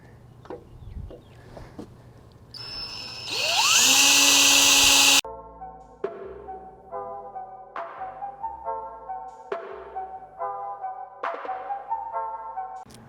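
A power drill whines steadily at high speed, then a series of sharp, repeated drilling bursts bite in and stop one after another as a cobalt bit drills holes in a truck frame.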